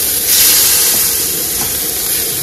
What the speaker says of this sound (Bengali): ভালোই বর্ষা পড়তেছে।